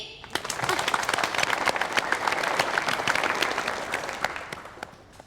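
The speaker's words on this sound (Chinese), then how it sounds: "让我们用热烈的掌声再次欢迎阿杰" A studio audience applauds steadily after a guitar performance, dense clapping rising quickly and then fading away at the end.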